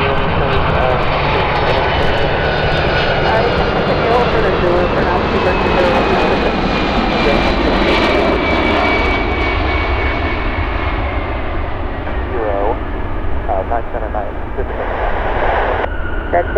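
Jet airliner engines roar loudly and continuously at Chicago O'Hare International Airport, a broad close rumble with a slowly shifting whine as an aircraft passes, sustained for the whole stretch.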